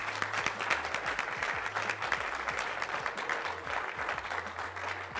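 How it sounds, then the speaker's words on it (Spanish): An audience at a political candidates' event in Guanajuato, Mexico, claps steadily in a dense, continuous round of applause heard close and alone. "Un aplauso, por favor."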